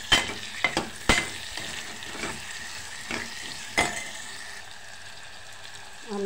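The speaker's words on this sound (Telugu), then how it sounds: "ఇంతకుముందు కట్ చేసి పెట్టుకున్న మునక్కాడ ముక్కలను యాడ్ చేసుకుంటున్నాం. యాడ్ చేసి మిక్స్ చేసుకోవాలి." Drumstick (moringa) pieces with salt sizzle softly in a pan while a spoon stirs them, giving several sharp metallic clinks and scrapes over a quiet, continuous frying hiss, with no voices.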